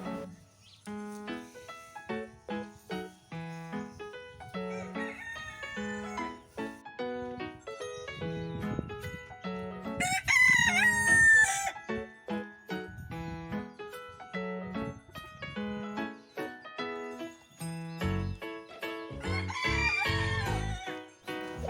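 Roosters crowing and hens clucking among farm birds and animals at a farm house in Ras al Khaimah, UAE, with repeated crows and busy clucking throughout, fairly close, no talking.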